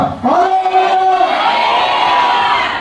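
A large church crowd cheers loudly with sustained voices, shouts and whoops rising together over a dense roar, close and continuous.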